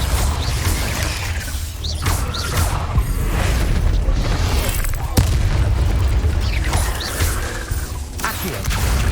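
Confringo blasting spells in Hogwarts Legacy go off as loud, booming explosions with whooshing bursts and mechanical clanks. The dense game sound runs without pause.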